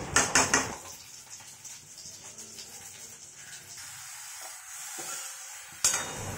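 Egg curry with potatoes is stirred and fried in a pan: a few sharp scraping clinks at the start, then a steady low sizzle, and one more spoon scrape near the end.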